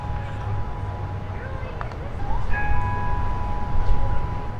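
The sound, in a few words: church bells tolling in Orlando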